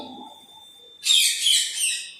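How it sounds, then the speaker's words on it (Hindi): Small birds break into a bright, dense burst of chirping after a thin steady tone, twittering rapidly and fairly loudly for about a second before fading. "पक्षी चहचहा रहे हैं।"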